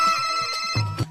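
Mobile phone ringtone in a household scene, a short bright melodic chime with tonal notes repeating over about a second.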